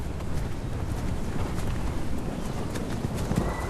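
Wild Garrano horses and foals clopping over ground in the Portuguese wild, a dense continuous patter of hooves with wind buffeting the microphone.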